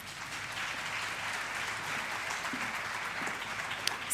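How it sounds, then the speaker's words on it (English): An audience at a university campus community safety programme in KwaZulu-Natal claps steadily, a dense even applause filling the hall from start to finish. "May we please give him another round of applause."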